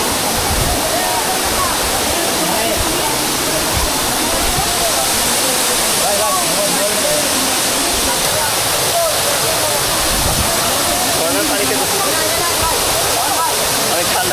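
Steady roar of Mupposhora waterfall in Bilaichhari, Kaptai, Rangamati, where bathers stand under the falls; the rushing water fills the whole stretch as a loud, unbroken broadband wash close by.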